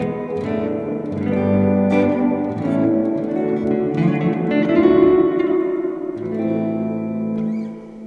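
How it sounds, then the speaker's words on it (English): Electric guitar run through a Flick effects pedal on a Daisy Seed/Hothouse build, playing sustained chords that bloom into a long, diffuse reverb tail, continuous and fairly loud with no talking. "So just kind of listen to this reverb, how it's really pretty long. It's got the long decay and the big diffusion."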